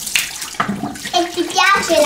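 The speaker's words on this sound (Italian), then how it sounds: "ora mi vado a sciacquare con acqua bella fredda" Cold tap water splashes as a face is rinsed, with irregular close splashes and running water mixed with brief voices.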